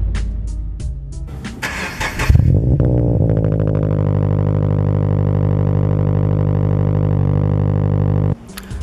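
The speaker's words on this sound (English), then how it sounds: "I'll start you guys off with a cold start." Subaru BRZ engine cold start outdoors: a few light clicks and a brief crank, then the engine catches with a loud flare and settles into a steady, droning high idle that runs for about six seconds before cutting off.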